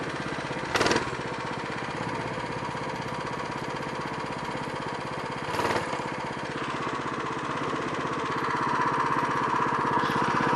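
A minibike engine idles steadily and close by, a continuous rapid chugging with two brief sharp bursts along the way and a slight rise in level toward the end.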